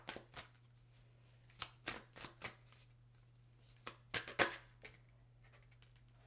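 A deck of Wisdom of the Oracle cards is shuffled up close in a quiet room, several brisk papery riffles and snaps in irregular bursts over a faint steady hum.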